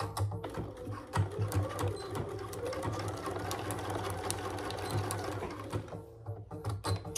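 An old Bernina 570 sewing machine with a 90/14 needle stitching through vinyl and zippers, rapid rhythmic whirring in short bursts with brief pauses, fairly close and alone.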